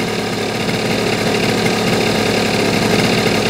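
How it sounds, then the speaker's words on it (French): A scooter engine runs steadily at high revs during carburettor adjustment, a loud, continuous buzzing drone close by with no pauses. "On maintient quand même un régime moteur élevé pour faire le test."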